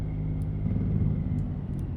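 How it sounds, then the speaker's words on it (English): Truck engine brake in American Truck Simulator while cruising Missouri: a steady, loud low rumble with a throbbing, chugging engine tone, close and continuous. "What are my engine brake sounds like in here?"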